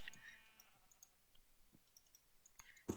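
Sheep bleat in Minecraft, a couple of short, faint game bleats with light clicks, quiet overall with no talk.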